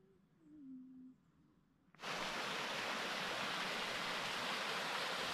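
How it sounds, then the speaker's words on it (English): Cool stream running through a coast redwood forest, a faint low tone and quiet murmur at first, then a sudden loud, steady rush of flowing water that holds evenly to the end. "Crisscrossing through the Coast Redwood Forest are cool streams"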